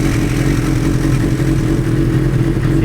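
A Suzuki GSXR1000 motorcycle, a 61-plate bike that has sat unused for a long time, idles steadily after start-up with a close, continuous rumbling engine note and a faint mechanical clatter from the cam chain.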